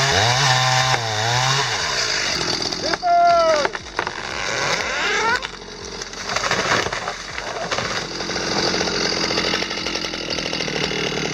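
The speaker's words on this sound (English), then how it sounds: "Seeing how the Stihl MS-361 manages the back cut while keeping the hinge intact" A Stihl MS-361 chainsaw fells a tree during the back cut, its engine snarling up and down in pitch with sweeping revs and a loud, continuous cutting roar close by.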